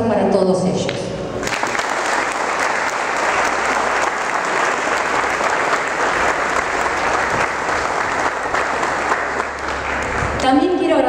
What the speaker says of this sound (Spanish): Por eso quiero un fuerte aplauso para todos ellos.